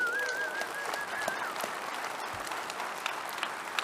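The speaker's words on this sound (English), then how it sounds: "So let's give them a big round of applause real quick" A conference audience at a security convention gives a round of applause, steady distant clapping heard faintly in a large hall, with a brief whistle-like tone near the start.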